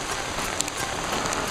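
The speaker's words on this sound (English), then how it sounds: "Alright, it started raining pretty hard," Heavy rain falling outdoors on a hike, a dense, steady hiss of drops striking surfaces close by, constant and loud for the whole moment, with no voices.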